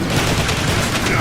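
Dense, loud rapid gunfire rattles without pause through the brief moment in the Transformers: War for Cybertron video game, a sustained fusillade with no gaps.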